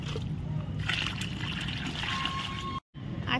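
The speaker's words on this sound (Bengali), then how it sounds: "শুধু ওদের ওই সরাটাতে শুধু জল দেবো" Water is poured into a plant saucer beneath a potted rose, giving a close, continuous splashing trickle that stops abruptly near the end.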